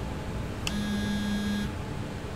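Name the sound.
phone ringing in pocket, from video game SOMA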